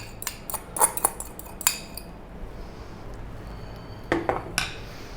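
Potato beet salad is tossed with dressing in a bowl, giving scattered clinks and scrapes of utensils against the bowl. There are bursts near the start and again toward the end, with quiet between.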